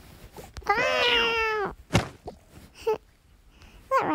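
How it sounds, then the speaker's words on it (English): Cartoon cat in a Toca Boca video game giving a long drawn-out meow, followed by a thunk, a short cry and the start of another meow, close and clear with no talk. "She's a little sleepy cat."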